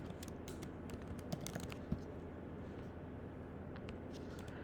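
Fingers tapping on a computer keyboard, a quick, irregular patter of soft key clicks over a low steady room hum, with two slightly louder keystrokes standing out early on.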